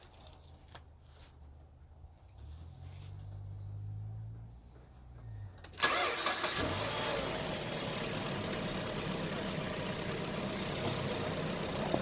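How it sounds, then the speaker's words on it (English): Keys jingle and an engine cranks, then catches with a sharp surge and settles into a steady, close idle. "It tells me to start the engine."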